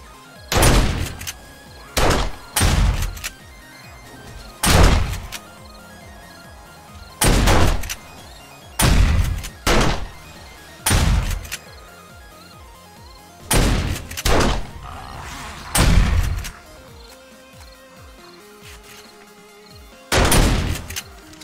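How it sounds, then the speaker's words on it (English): Long shotgun with green bullets fired in the 7 Days to Die video game: about a dozen loud, booming blasts, single or in quick pairs, spaced irregularly a second or two apart over a low background. "I do like this long shotgun with the green bullets"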